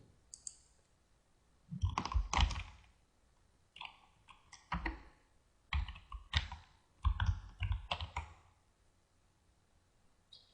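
Typing on a computer keyboard, close clusters of quick clicking keystrokes in irregular bursts separated by short quiet gaps.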